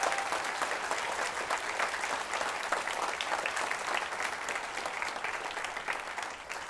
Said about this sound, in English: So let's give a big round of applause for Mrs. Tribly.